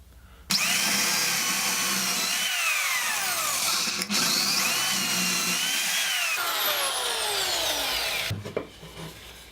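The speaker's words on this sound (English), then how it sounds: "to drill some holes in this middle section to start coring it out" A power drill bores holes into the middle of a wooden workpiece for a garden stool handle, whining loudly and close in long steady runs with short pauses between holes, then winding down to quiet near the end.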